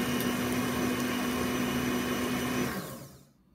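A kitchen grinder whirs loudly and steadily as it blends oats, sugar, a little salt and baking powder for oat pancakes, then spins down and fades to quiet in the last second.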